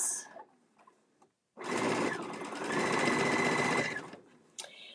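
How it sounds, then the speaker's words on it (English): A sewing machine stitches shut the end of a fabric bucket bag made from two fat quarters, running in one loud, steady, close burst of rapid whirring needle strokes for about two and a half seconds between quiet pauses. "I'm gonna go ahead and sew that end shut"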